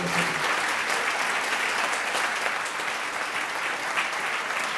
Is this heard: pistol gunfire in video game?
no